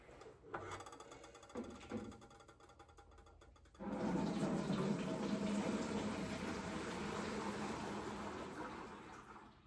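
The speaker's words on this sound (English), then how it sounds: "Finally, you want to strain the water from the pot so you don't end up with a watered down macaroni." Hot pasta water pours from a pot through a strainer in a kitchen, a loud rushing gush that starts suddenly after a few soft knocks and keeps flowing steadily to the end.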